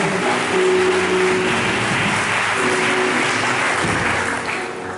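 An audience at a church consecration service applauds the people seated up front, with continuous, even clapping sustained at full volume throughout and a faint tonal hum underneath.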